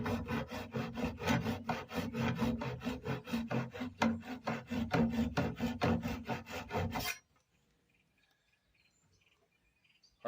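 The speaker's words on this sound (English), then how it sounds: "I'm just gonna bob these off, give her a good sand" Hand sanding of a wooden box after plugging screw holes, a steady rhythmic back-and-forth scrubbing of abrasive on wood, close and loud for about seven seconds before stopping abruptly into near silence.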